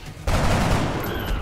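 A burst of squad gunfire in the XCOM: Enemy Unknown tactical game erupts after a brief quiet moment, a loud, dense volley of shots that rolls on with a booming low end before tapering slightly.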